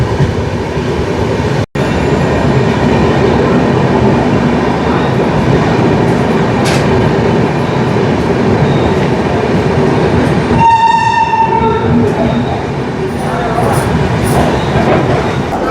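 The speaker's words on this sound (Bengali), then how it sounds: "কৃষ্ণনগর সিটি জাংশন ঢুকছি আমরা" A train pulls into Krishnanagar City Junction at night with a steady rumbling roll throughout, a sharp click early on, and a loud horn blast sounding for about two seconds near the end, followed by a fainter tonal call.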